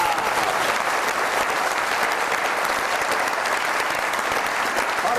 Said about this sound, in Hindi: आप सबकी तालियों में मोहसिन भट्टी साहब, मेंबर हैं cabinet committee for food and price Punjab.